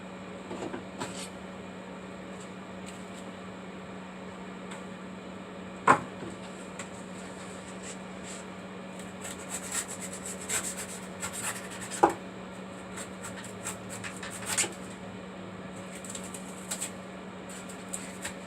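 Excess material being trimmed from a homemade pond mold, heard as faint intermittent scraping and rubbing with a few sharper snips over a steady low hum, no voices.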